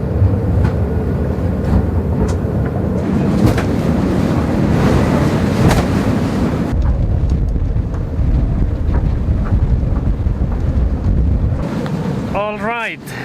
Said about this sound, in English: Alright, it's windy again.